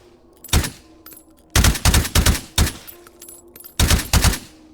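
Suppressed gunfire in the VR shooting game H3VR comes in quick bursts of several sharp, muffled cracks, with short pauses between volleys and no talking.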